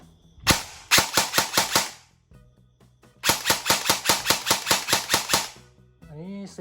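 An E&C HKM27 IAR airsoft rifle fires single semi-auto shots in two bursts of evenly spaced, sharp, loud cracks, about five and then ten shots, with a brief quiet gap between and a faint voice at the end.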